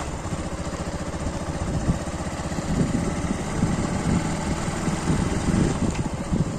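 A motorbike engine runs at a steady idle after starting on a CRPF ground in Bhubaneswar, a continuous low rumble with fine vibration that stays fairly loud and even throughout, with no talking over it.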